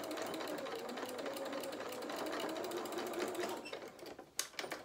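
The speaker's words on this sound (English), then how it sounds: "I'm going to reverse stitch here." A sewing machine runs steadily up close, reverse stitching while sewing a stuffed bear's head, with a continuous rapid whirring hum that breaks into a few stops and clicks near the end.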